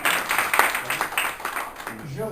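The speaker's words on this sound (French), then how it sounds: "je vous demande de l'applaudir" A small audience at a ceremony in Morocco claps in uneven bursts, moderately loud and close, with a voice starting to speak as the applause fades.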